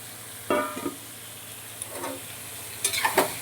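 Chicken is stir-fried in a pan for a kosha-style curry, with a few short sizzling bursts and spoon scrapes over a quiet, low background.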